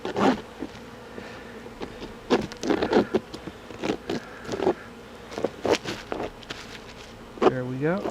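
Honey bees buzzing around an open, weak hive infested with small hive beetles, heard as short, close, irregular buzzes with scattered taps and handling noise and no continuous swarm drone.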